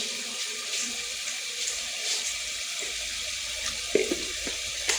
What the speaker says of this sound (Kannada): ಈಗ ಸ್ವಲ್ಪ ನೋಡಿ, ನೀರು ಬಿಡ್ತೀನಿ, ಸ್ವಲ್ಪ ಬಿಸಿ ನೀರು ನಾನು ಬಿಟ್ಟಿರೋದು ನೋಡಿ